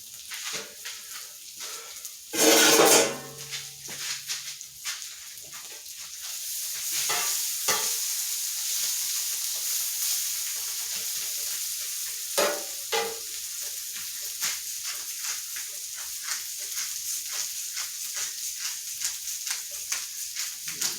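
Smash burgers sear on a flat griddle, giving a steady, close frying sizzle with occasional scraping and stirring clatter and a brief louder scrape near the start.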